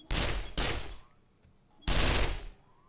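A turret blasts a boss in 7 Days to Die with three loud, sharp bursts of gunfire, two close together and then a third after a short pause, each ringing briefly away.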